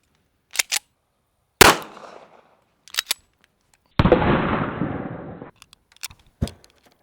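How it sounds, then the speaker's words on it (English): A .45 ACP pistol fired into a solid wood front door, one loud sharp bang followed by a long noisy burst, with several smaller clicks and knocks scattered around it. "Moving up to a 45 ACP."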